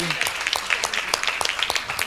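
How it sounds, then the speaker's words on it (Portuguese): A church congregation claps after a baptism during a sabbath celebration, quick rhythmic handclaps close by with voices calling and talking over them. "Fuerte aplauso para não."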